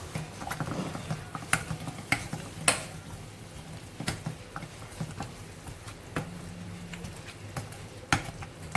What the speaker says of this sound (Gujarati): અને આપણે મેસરથી થોડુંક છે મેસ કરી લેશું એટલે મસ્ત મિક્સ થઈ જાય